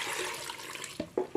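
Water pours and splashes into a metal pressure cooker holding washed bathua greens and potatoes, a steady rush followed by a few short sloshing bursts.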